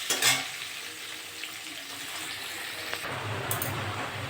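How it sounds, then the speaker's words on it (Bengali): Potatoes seasoned with salt and turmeric fry in hot oil in a home kitchen, giving a steady, moderately loud sizzle with a brief clatter near the start and no talking. "আলুটা ভালো করে ভেজে নেব।"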